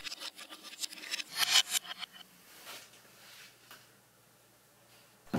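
Screws being turned in on the far side of a CJ0618 7x12 mini lathe, played in reverse, make close scraping and rasping metal-on-metal strokes in uneven bursts that fade to quieter scratches.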